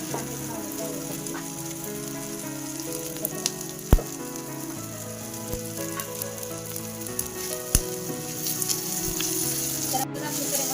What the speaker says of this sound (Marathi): तर आपल्याला आपले खडे मसाले भाजून झालेले या ठिकाणी